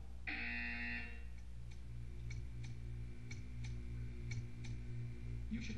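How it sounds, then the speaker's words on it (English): In Portal 2, a harsh electronic buzzer sounds for about a second over a constant low machine hum, followed by a run of evenly spaced soft ticks. "You will hear a buzzer."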